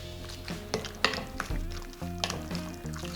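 Raw chicken pieces being mixed by hand with curry powder and seasoning in a bowl, giving soft wet squelches and scrapes with a few sharp clinks from the bowl, close and moderately loud, with no talking.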